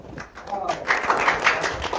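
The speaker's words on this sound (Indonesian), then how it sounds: "Wah, tepuk tangan dulu." Audience clapping at a university student talk show, a scattered burst of claps with voices talking over it at fairly close range.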